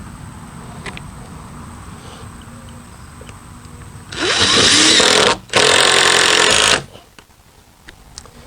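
A power tool whirs loudly in two bursts of about a second and a half each, driving 2.5-inch coated lag bolts into wooden fence posts without pre-drilling, separated by a brief pause, with quieter outdoor ambience before and after.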